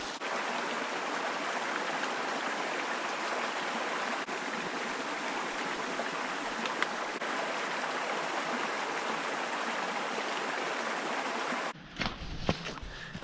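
Steady, fairly loud rush of a stream flowing beside the Appalachian Trail on the Standing Indian Loop, a continuous broadband wash with no voices, ending in a brief handling clatter near the microphone.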